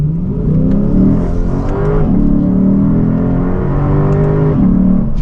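A 2023 Lexus IS500 with its V8 accelerates hard, loud and close, its deep engine roar climbing in pitch through the gears with brief dips between shifts.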